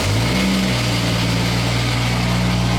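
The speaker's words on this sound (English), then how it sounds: "Does have a noisy thrust bearing sometimes" A 2JZ engine in a Toyota Cressida idles steadily and loudly, with a faint whirring clutch thrust bearing running under the drone and a brief higher whine near the start.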